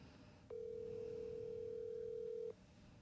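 A steady telephone dial tone when calling someone, one continuous tone lasting about two seconds that starts and stops abruptly against a quiet background.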